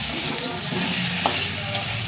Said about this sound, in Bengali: হলুদটাকে দিয়ে আর একটু ভাজবো